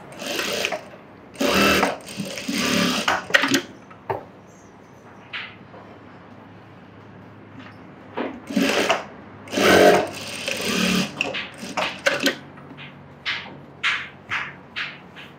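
A sewing machine stitches a shoulder seam on a small child's garment in several loud, close bursts of rapid mechanical whirring, separated by quiet pauses and shorter runs near the end.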